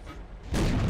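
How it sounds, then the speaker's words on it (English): Tank cannon firing a blind shot in the video game World of Tanks, a single sudden loud boom that holds as a broad roar to the end. "Another blind shot."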